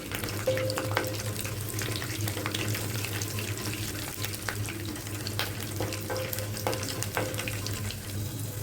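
Urad dal, cumin, mustard seeds and garlic frying in oil, giving a soft steady sizzle with light crackles and occasional stirring scrapes, close by and moderately quiet, no speech.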